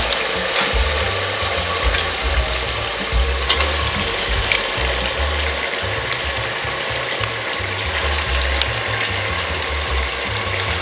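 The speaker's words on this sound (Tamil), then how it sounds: "சிக்கனை ஒரு 10 நிமிஷம் இதில் போட்டு நம்ம அப்படியே வதக்கி எடுத்துக்கலாம்" Chicken sautéing in a pressure cooker for Tamil cooker-style chicken biryani gives a steady, loud sizzle throughout, with faint clicks and scraping over the hiss and no talking.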